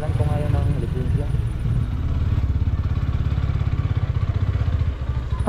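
A motorcycle engine runs nearby with a steady, clattery putter and a rhythmic pulsing throb, heard without any voices.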